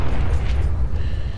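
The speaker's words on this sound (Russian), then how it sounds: "Машина рванет." A car blows up in the video game Fallout 4, a loud, sustained low boom lasting over a second with rumbling debris.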